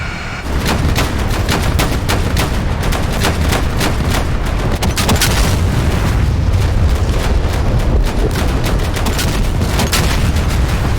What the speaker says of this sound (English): they would call in mortar strikes from the Taliban, and that's what we're seeing here